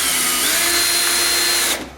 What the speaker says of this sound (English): I'm just putting 2 screws in to hold them up there in place